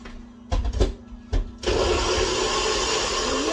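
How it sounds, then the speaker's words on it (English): A blender starts after a few clicks and knocks, then whirs loudly and steadily, blending ingredients for Ghanaian palm nut soup, close and continuous with no talking. "So I'm going to be blending this one."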